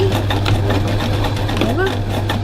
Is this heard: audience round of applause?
no